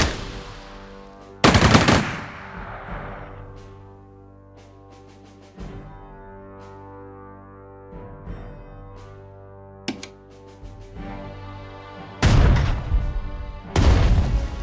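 Gunfire in the PS4 strategy game Strategic Mind: Spectre of Communism, sharp bursts of machine-gun fire and single shots scattered over about fifteen seconds, with ringing tails and quiet stretches between loud volleys.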